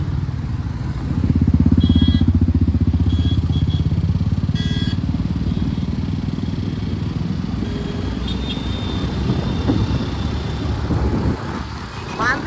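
Motorcycles and other vehicles on a highway between Bhiwandi and Indapur in Maharashtra make a loud, steady low engine rumble throughout, with faint clatter and brief higher tones over the top.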